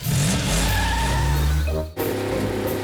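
A cartoon car speeds off in a loud, continuous engine rev with a skidding tyre squeal, then a brief drop and the motor carries on, with no talk over it.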